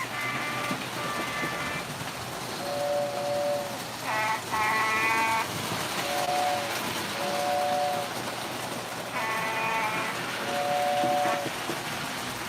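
Toy model train horns sound during playful horn battles on a model railway layout, with short multi-tone blasts and longer held horn chords repeating over a steady background hum. Moderately loud and close, with little talk.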